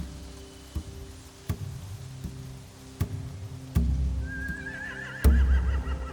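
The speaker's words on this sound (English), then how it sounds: "Scare the horses, too." A horse whinnies loudly near the end over steady low rumble and regular dull thuds, with clip-clopping hooves in the background, in The Walking Dead video game.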